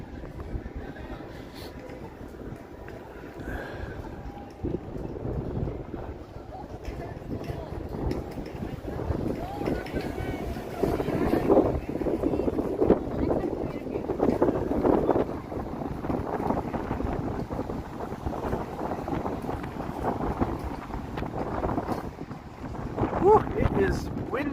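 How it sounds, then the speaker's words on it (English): Wind buffets the microphone in uneven low rumbling gusts, rising and falling, with faint background activity from a crowd at an outdoor skating rink in downtown Toronto on a cold evening. "It is windy here,"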